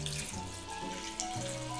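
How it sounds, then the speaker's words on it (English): Water pours steadily into a bowl of dried seaweed set to soak, a continuous close splashing and trickling stream with no talking over it. "We have our water. Just gonna pour that in."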